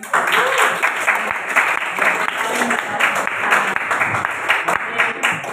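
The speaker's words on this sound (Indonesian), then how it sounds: "Silakan kasih tepuk tangan lagi" A machining class claps again for a student, loud continuous applause from a roomful of people with some chatter and voices underneath.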